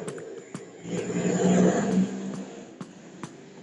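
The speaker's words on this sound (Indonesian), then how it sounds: "itu suara motornya" A motorbike engine inside the horror game Evil Nun 2 swells up and fades over a few seconds, as a mid-level drone with faint clicks around it and no talking.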